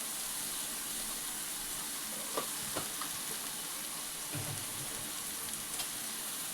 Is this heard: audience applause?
no